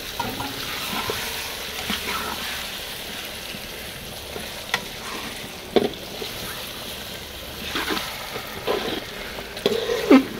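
Marinated meat frying in a pan with browned onions, a steady close sizzle with occasional stirring clatters and scrapes, no talking.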